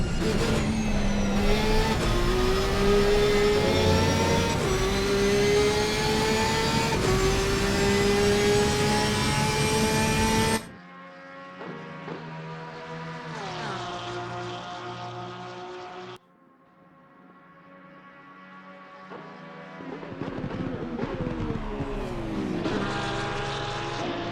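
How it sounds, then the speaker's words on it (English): Flat-six engines of Porsche GT3 race cars scream loudly in a racing video game around Mount Panorama, the dense high-revving note cutting out briefly mid-clip before returning and building again. "you can hear the sound of those screaming flat sixes as we head down into turn one"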